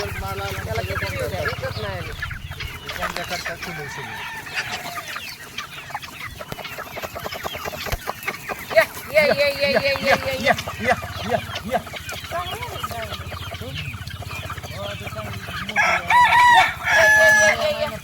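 Desi chickens in a pomegranate orchard cluck repeatedly with occasional crowing, mixed with scattered clatter and people talking nearby throughout.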